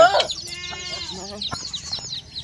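A chicken clucks and squawks in a short, agitated burst while being chased, sharp calls near at first and then quieter, with people talking over it.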